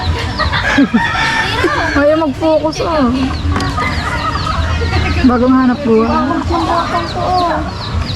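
Several fighting roosters crowing and clucking close by, overlapping calls throughout, with a person talking briefly among the birds.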